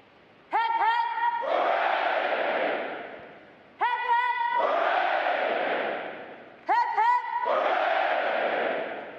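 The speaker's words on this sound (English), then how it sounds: "The adjutant will lead all graduating divisions in three cheers for this" Graduating Navy recruits at a Recruit Training Command ceremony give three cheers. Each time, a single voice calls out and a large massed shout answers, echoing through the hall, three rounds in all.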